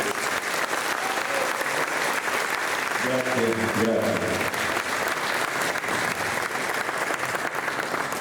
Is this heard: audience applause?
yes